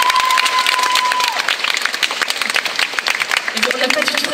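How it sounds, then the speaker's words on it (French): An audience at a cosplay conference applauds steadily with dense clapping, and a voice calls out briefly over the sustained applause. "je pense qu'on peut encore l'applaudir pour cette prestation"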